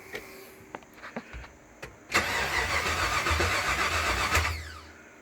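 A 1979 GMC C15 pickup's engine cranks briefly after a few faint clicks, then catches and starts, settling into a steady, loud running roar close by for several seconds before cutting off.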